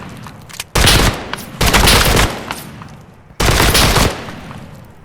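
Automatic gunfire bursts in the video game Geronimo, three loud close volleys of rapid fire separated by brief lulls, with no talk.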